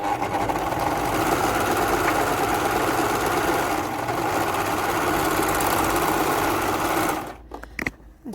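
A Singer 14SH654 overlock machine runs steadily, sewing gathered stitches with a continuous fast mechanical whir and rattle, close and loud, then stopping abruptly near the end.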